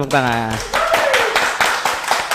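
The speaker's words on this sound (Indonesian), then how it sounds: "Yeay, tepuk tangan." People clap for a guest being introduced on a talk show; a brief cheering voice comes first, followed by a quick burst of close, sharp hand claps that continues to the end.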